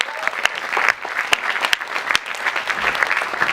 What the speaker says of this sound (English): A huge round of applause for Pooja.